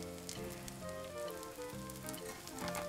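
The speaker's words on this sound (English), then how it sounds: "here we have the Æbleskiver frying" Continuous crackling sizzle of red velvet æbleskiver batter frying in a pan, close and steady, with a faint tonal hum underneath and no talking.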